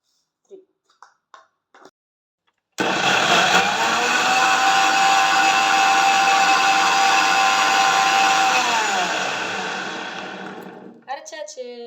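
Blender grinding strawberries and sugar for a milkshake starts after a few soft clicks, a loud steady motor whir lasting about eight seconds before winding down, followed by a brief voice.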